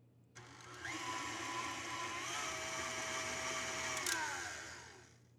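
An electric mixer beats butter and sugar for shortbread, a steady loud whirring drone that starts abruptly, holds for several seconds with a slight shift in pitch partway, then tapers off near the end, with no talking.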